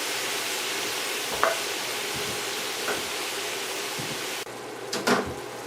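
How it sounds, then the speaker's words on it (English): Steady sizzle of Mongolian beef frying in a pan as green onions go in, a broad hiss punctuated by a few soft stirring clinks, with no talk. "The next thing I'm going to do is add my green onions."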